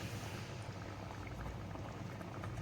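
A Kerala-style fish curry with raw garlic added bubbles at a vigorous boil, a dense continuous burble of popping bubbles heard up close and alone.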